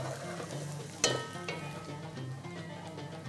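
Chopped ingredients and herbs stirred and mixed in a hot pan for homemade lasagna filling, a steady sizzle with scraping clatter of the spoon and one sharp knock against the pan.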